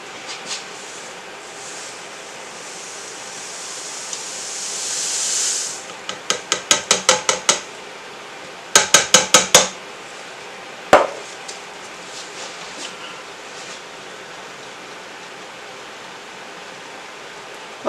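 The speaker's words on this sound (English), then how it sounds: "I haven't mixed the lye into the water yet, so that's what I'm going to show you right now" Lye poured into water for handmade soap hisses and steams in a rising rush, then gives way to bursts of quick clinking and tapping from stirring, with a few scattered knocks afterward.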